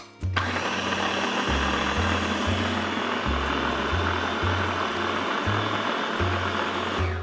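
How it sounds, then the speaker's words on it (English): A baby food maker's motor whirs loudly as it grinds food, a steady close-up drone with regular low pulsing throughout. "we just turn this to grind it and let it whirl"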